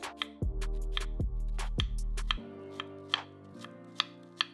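A knife chops half a red onion on a cutting board in quick, crisp, evenly spaced taps, close and clear, with a low hum underneath at first.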